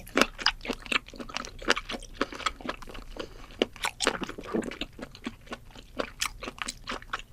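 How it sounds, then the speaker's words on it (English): Crunchy food being chewed at a mukbang, with dense, rapid crisp bites and crunches close to the mic, repeating steadily throughout with no talking. "just the sound you make when you chew it already makes me want to puke"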